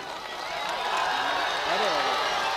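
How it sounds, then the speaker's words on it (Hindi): An audience at an all-India mushaira in Korauli Khurd, Azamgarh, claps in a dense, steady wash of applause lasting a few seconds, with a voice speaking over it. "तालियों से इनका इस्तकबाल कीजिए"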